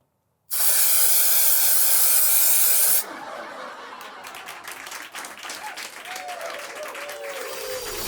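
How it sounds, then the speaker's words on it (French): An aerosol spray can is sprayed in a long, loud, steady hiss for about two and a half seconds, followed by quieter scattered rattling and rustling noises. "je secoue la bombe et je vais faire un premier test"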